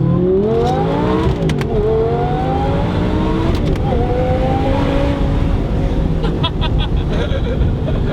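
Supercharged Audi R8 with a manual gearbox revving hard, the engine note climbing and dropping through gear changes with supercharger whine on top, loud and close from inside the car with a few mechanical clicks.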